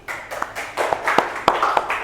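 A small class claps hands in a microteaching classroom, a handful of sharp, uneven claps rather than a full ovation, close and fairly loud over about two seconds.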